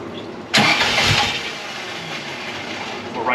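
A rebuilt Fiat 124 engine turns over and fires, a sudden loud burst of exhaust that settles into a rough, rumbling idle close by.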